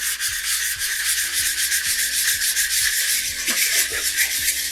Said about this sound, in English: So I'm using a sanding tee